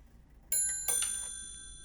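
A mechanical watch's striking train chimes the quarter hour: two bright, ringing metallic strikes a moment apart, the second louder, each tone lingering and fading in a quiet room with no speech.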